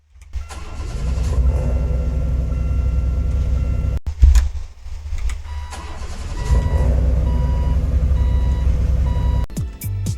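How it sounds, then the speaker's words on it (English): In the Greenville video game, a 2000 Casius Imperator SX Turbo starts up with a loud starter crank and catches into a steady idle. A second start follows midway, with beeping tones over the engine drone. "The 2000 Casius Imperator SX Turbo has the same startup as the 1996 Oldsmobile Cutlass."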